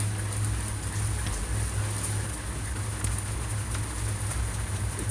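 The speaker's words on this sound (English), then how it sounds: "because it's raining" Steady rain falling outdoors, a dense continuous patter and hiss with a low rumble underneath, constant in level throughout with no voices.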